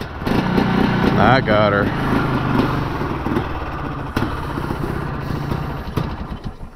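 A two-stroke Polaris Scrambler 400 ATV engine, choke on, catches and keeps running in a steady, buzzy idle throughout, with a brief rise in revs near the start and someone speaking briefly over it.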